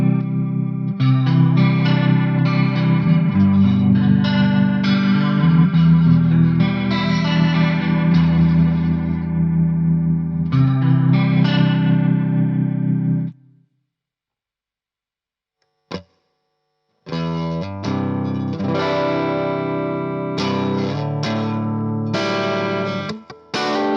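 Line 6 Spider V mkII guitar combo amp with its rotary FX dialed up high, giving swirling, modulated electric guitar chords and notes that play loudly, break off into a brief near-silence, then resume with a short strum and further phrases.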